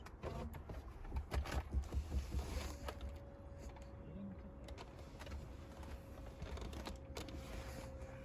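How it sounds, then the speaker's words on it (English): A steady thin whine from the back of a 2006 Mercedes-Benz E55 AMG after a fuel pump install, with the ignition on, faint and constant under soft knocks and handling noises. "I don't know what that whining noise is in the back of the car"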